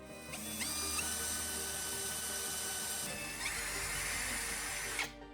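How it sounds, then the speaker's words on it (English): Small power drill boring a hole through a metal spoon handle, a steady high whine with a brief spin-up, continuous grinding, then an abrupt stop; close and fairly quiet. "Drill one small hole through the handle."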